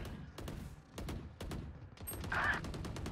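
Rapid bursts of gunfire in the Valorant shooter game, several sharp shots spaced through the moment with overlapping reports, moderately loud over a busy game mix.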